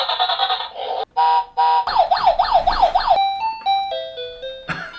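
A battery-powered toy truck runs through its electronic sounds and songs: beeping tones, a warbling siren sweep and short chiming melodic notes, loud and close with brief gaps between effects.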